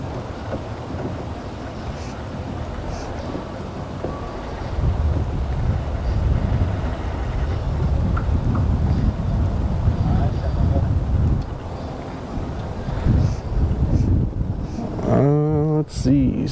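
Wind buffeting a microphone outdoors in heavy low gusts, loud and continuous, with brief voices near the end.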